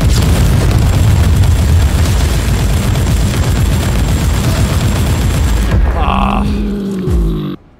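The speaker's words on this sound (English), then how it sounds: "Nice, threw a grenade." Grenade blast and combat din in the action game Warhammer 40K Inquisitor Martyr, a loud sustained roar of explosions and gunfire for several seconds that cuts off to quieter game tones before fading out.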